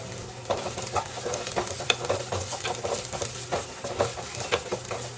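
Large-cut onions sauté in hot oil for a kovakkai gravy, sizzling steadily with frequent close scraping stir strokes.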